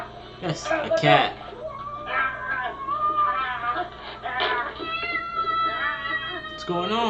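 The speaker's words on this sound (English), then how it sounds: "That's a cat." A cat meows repeatedly in drawn-out, wavering cries at close range, overlapping with people talking in the background.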